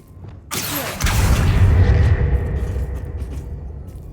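Confringo fire blasting spell in the Hogwarts Legacy video game: a sharp bright crack that swells into a loud, rumbling fiery explosion, then fades slowly over several seconds, with no talk.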